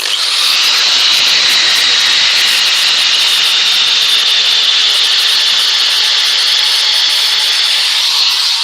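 Steady, loud, hissing friction of 240 grit abrasive sanding wood, rubbing continuously and evenly without pauses or voices.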